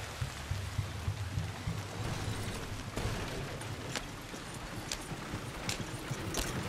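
Horse hooves clip-clop at a steady trot on a trail in the video game Red Dead Redemption 2, a quiet, even rhythm of soft thuds over low ambient rumble.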